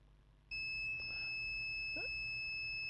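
A multimeter's high, steady continuity beep, probing ceramic capacitors on a laptop motherboard, switches on and holds continuously, with faint background noise beneath it.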